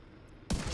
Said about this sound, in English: Deploying frag!